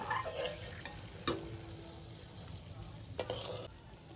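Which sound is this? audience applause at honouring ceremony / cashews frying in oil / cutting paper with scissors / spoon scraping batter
cashews frying in oil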